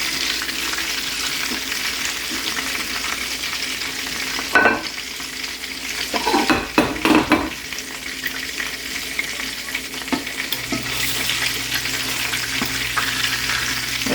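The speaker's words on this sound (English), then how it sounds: "You don't want to fry them too dry because you want your burger to be juicy" Homemade burger patties fry in a pan, giving a steady close sizzle throughout, broken midway by a few scraping and clattering bursts as they are handled or turned.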